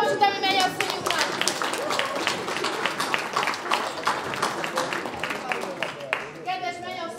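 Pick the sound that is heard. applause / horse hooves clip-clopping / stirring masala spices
applause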